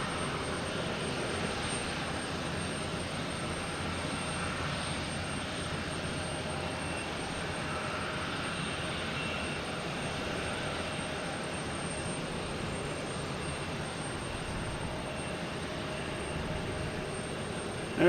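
A Delta airliner on approach to land at Boston Logan Airport, a steady, broad engine roar that holds at an even level from a distance throughout.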